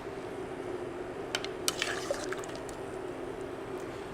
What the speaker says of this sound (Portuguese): Vamos mexer um pouco.